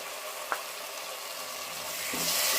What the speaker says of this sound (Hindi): इसे हम 2-3 मिनट तक अच्छी तरह से फ्राई कर लेंगे।